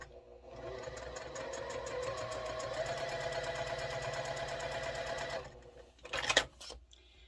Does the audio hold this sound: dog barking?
no